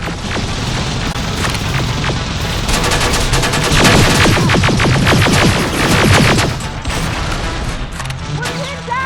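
Heavy automatic gunfire in the Terminator Resistance shooter game, dense rattling bursts with loud booms building into a sustained barrage, shouted voices mixed in.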